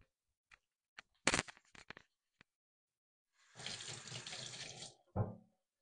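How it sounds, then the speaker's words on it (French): Hands are washed under a running kitchen tap while preparing chorizo and goat cheese mini spirals: a steady gush of water lasting about a second and a half, preceded by scattered clicks and clatter, with a short splash at the end. "Je me lave les mains, hein, bien sûr."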